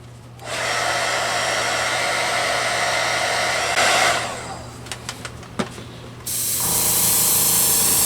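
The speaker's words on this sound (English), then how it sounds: "about a quarter of the way back on the airbrush, because I really want to blast it" Airbrush blasting acrylic paint in long, loud continuous hissing bursts, briefly interrupted by a few clicks and short puffs before the steady spray resumes.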